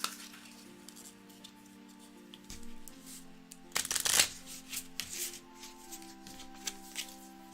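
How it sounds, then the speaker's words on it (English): Playing cards being riffle shuffled: a quick, crisp flutter of riffling cards peaks midway, with scattered taps and light clinks of handling before and after. "That's part of a riffle shuffle that I do."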